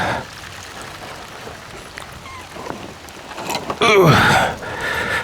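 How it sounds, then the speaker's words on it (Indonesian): Steady rain patters on a shelter in a forest, a soft constant hiss with a louder rustle and splash near the end. "Hari gini masih hujan."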